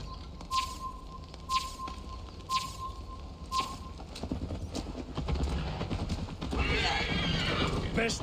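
A horse in Assassin's Creed Valhalla whinnies several times over a clip-clop of hooves, then breaks into a faster, busier gallop with louder rushing noise toward the end.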